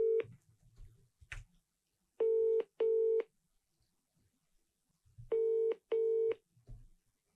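Touch-tone keypad beeps as a telephone number is dialed for a live cold call: four steady tones in two pairs, close and clear, with faint handling noise between them.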